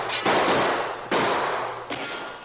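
Three sharp gunshots in a radio drama, spaced about a second apart, each a loud crack with a short ringing tail and no voices over them.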